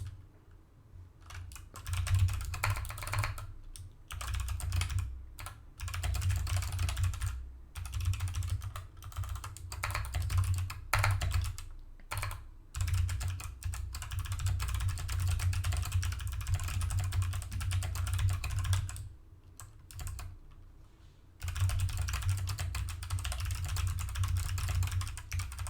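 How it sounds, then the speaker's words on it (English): Steady computer keyboard typing runs almost continuously at close range, dense rapid clicks with a few brief pauses and no voices. "It's a little bit of keyboard ASMR for y'all"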